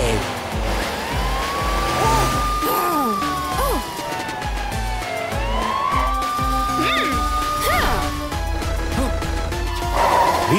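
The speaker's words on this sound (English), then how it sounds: "here's Matilda the police car chasing Crocomile" A cartoon police car's siren wails in long rising and falling sweeps during a chase, mixed with a busy music score and effects, steady and loud throughout.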